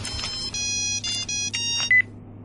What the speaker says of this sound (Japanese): 携帯鳴ってるよ